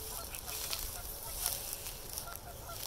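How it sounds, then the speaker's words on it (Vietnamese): A family of wild ducks at the Meadowvale nature reserve in Mississauga, Canada, gives off honking calls amid a steady outdoor wash of ambient noise, with a few sharper calls standing out near the middle. "Đang đi thì gặp một một gia đình nhà vịt."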